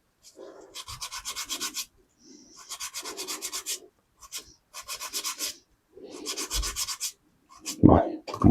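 Hand sanding and polishing a handmade popper fly head, heard as close, raspy rubbing strokes in repeated bursts separated by short pauses, ending with a few knocks and handling noises.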